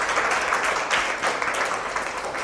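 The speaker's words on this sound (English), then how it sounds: "So a good clap for yourself." Students at a drug awareness program quiz session clap for themselves, a dense, even burst of applause filling the room at steady loudness throughout.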